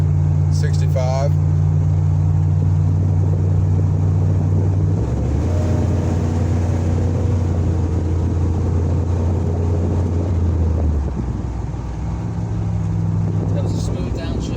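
A vehicle with a rebuilt Ford 4R100 automatic transmission drives along and downshifts, its steady engine drone stepping down in pitch midway and rising again later, with road and wind noise and people talking inside the cab.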